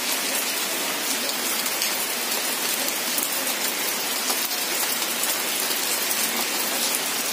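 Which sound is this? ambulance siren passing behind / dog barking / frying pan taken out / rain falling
rain falling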